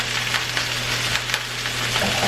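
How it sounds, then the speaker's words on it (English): Pork loin sears in a hot pan with butter, garlic and thyme, giving a steady, close, loud sizzle and frying crackle that runs the whole time with no talking. "at this point you can also add some butter. You can add some garlic and some thyme"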